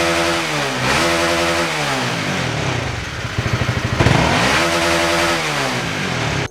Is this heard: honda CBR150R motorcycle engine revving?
yes